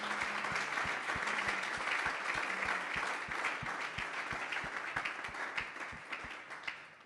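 Church congregation clapping together in praise, a steady dense patter of many hands over several seconds at moderate level, with a faint low rhythmic beat beneath.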